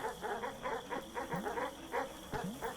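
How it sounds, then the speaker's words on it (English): Dogs in the video game Animal Well bark in a quick, steady run of short yips and barks, moderately faint and evenly spaced, with no talking over them. "I apologize for all of the noise that the dogs are causing."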